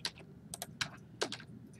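Someone types on a computer keyboard in quick, uneven bursts of close keystrokes over a low background hum.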